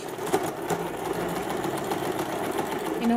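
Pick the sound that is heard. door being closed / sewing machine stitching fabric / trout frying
sewing machine stitching fabric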